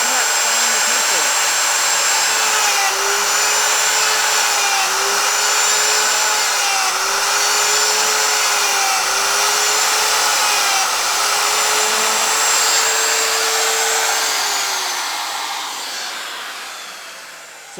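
Handheld router cutting half-blind dovetails in wood with a dovetail jig and template, a loud, continuous high whine whose pitch dips as each cut is made, then winding down at the end.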